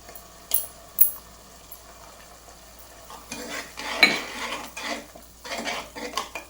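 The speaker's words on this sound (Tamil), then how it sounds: "வெங்காயம் பச்சை வாசனை போகிற வரைக்கும் நம்ம வர வதக்கிட்டுக்கலாம்" Onions sauté in a pan for a black-eyed pea and avarakkai poriyal, a low sizzle under sharp metal clinks early on, then louder bursts of spoon scraping and stirring against the pan toward the end.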